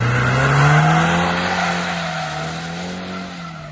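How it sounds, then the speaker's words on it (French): A BMW 120i E82 slides, and its tires let out a loud, sustained squeal that wavers in pitch as it fades slightly over several seconds. No one talks. "si vous voulez la faire glisser, il n'y a absolument aucun problème"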